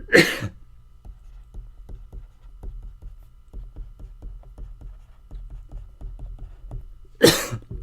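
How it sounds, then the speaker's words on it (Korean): During a Korean math lecture, two short, sharp coughs bookend the stretch, one at the start and one near the end, with faint tapping and scratching in between. "죄송합니다. 기침이 나오네요."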